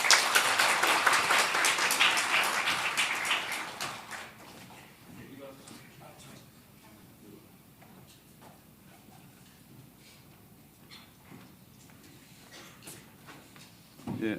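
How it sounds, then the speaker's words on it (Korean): A church congregation claps for several seconds at a Sunday service, a moderate burst of applause that fades out, followed by quiet room tone with sparse small knocks and a voice beginning near the end. "박수로 한번 격려해 주십시오"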